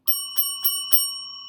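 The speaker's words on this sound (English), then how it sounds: "bell right there, you know what that means?" A small bright bell rings four times in quick succession, each strike clear and ringing with a sustained metallic tone that fades after the last hit, heard alone without speech.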